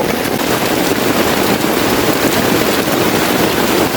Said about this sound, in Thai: ฝนตกเป็นอย่างนี้แหละป่าดิบชื้น